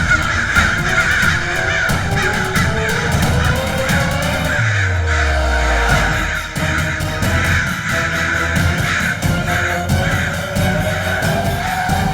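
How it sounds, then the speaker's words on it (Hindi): A large flock of crows keeps up loud, overlapping cawing in a forest for the whole stretch, and a low swooping rumble briefly rises beneath the calls midway. "कितने सारे कौवे, हमें यहाँ से भागना होगा।"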